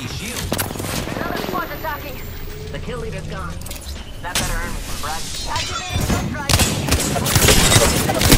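Weapon fire in Apex Legends, sharp cracks and metallic mechanism clatter over a dense, busy game mix, getting louder toward the end.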